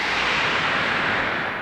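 A Summit synthesizer plays a steady, loud hiss of white noise recreating a sound from a well-known recording, sustained evenly throughout.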